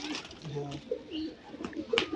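Allahabadi red-tail pigeon, a big bench-shaped bird, cooing in a few soft low calls close by, with brief chirps and faint background voices.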